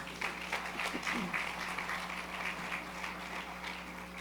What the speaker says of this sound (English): Clap them again, please.